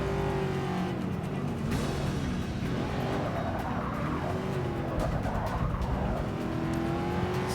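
Race car engines from the Forza Motorsport 6 video game roar steadily with shifting revs and occasional tire squeal, a continuous loud mix of several cars with no talking.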